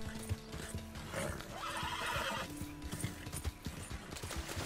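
A horse in the Red Dead Redemption 2 video game neighs and whinnies over the clip-clop of its hooves, a close, moderately loud passage with faint mechanical clicking alongside.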